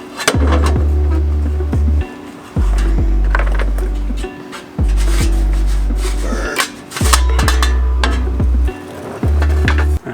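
An old Monzo aftermarket muffler from a Miata is shaken by hand, giving repeated loud metallic clunks and rattles from loose parts inside, in uneven bursts separated by short pauses.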